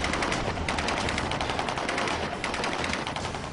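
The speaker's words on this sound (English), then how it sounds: "They draw their weapons and fire." Guards fire their weapons in a dense burst of rapid gunfire, loud and continuous automatic shots rattling throughout.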